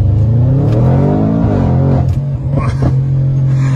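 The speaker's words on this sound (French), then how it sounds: "Déjà d'origine, la RS6 c'est une voiture qui naturellement fait du crackle" An Audi RS6 C8 at Stage 2 with a Milltek exhaust pulls hard, its loud, steady engine drone rising under acceleration with a few crackles near the end.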